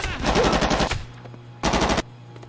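Gunfire in the PS2 game Made Man, two loud machine-gun bursts separated by a brief lull with a low hum between them.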